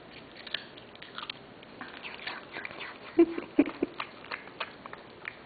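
A dog crunching and chewing on a raw carrot indoors, a run of small close bites and crunches with a couple of sharper snaps, fairly quiet over a low room background.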